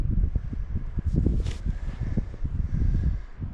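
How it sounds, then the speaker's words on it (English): Wind gusts through the Carson canyon and buffets the microphone with a steady, low, rumbling roar that swells and dips for the whole stretch. No one speaks. "Now the wind's starting to blow, so it might be wind."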